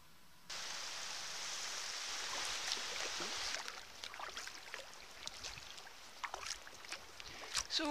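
Sea kayak paddling in calm conditions rounding the Mull of Kintyre between Southend and Machrihanish, with a steady broadband wash of water and wind, then scattered splashes and paddle drips that grow more distinct toward the end.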